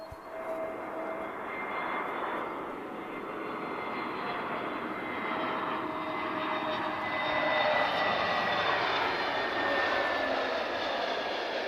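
A passing aircraft at Lisbon Airport gives a loud, sustained engine roar that fills the whole stretch, swelling slightly and shifting gradually in pitch, with no speech over it.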